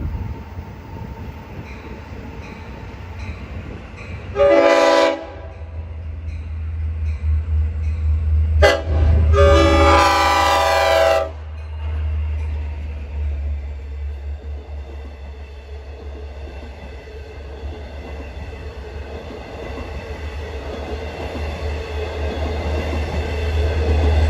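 A Long Island Rail Road Port Jefferson Branch train bound from Penn Station, passing near a crossing west of Huntington, with two loud horn blasts over a deep, steady rumble of the train rolling by.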